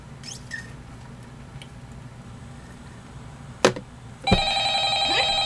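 An in-game phone rings in the horror game Five Nights at Freddy's 2, a steady electronic ring starting near the end over a low ambient hum, after a couple of sharp clicks.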